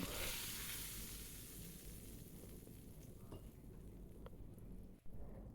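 A tempering of hot oil and chilli powder is poured into a whole masoor dal curry, producing a loud, steady hiss and sizzle that slowly settles, with a brief clatter near the end.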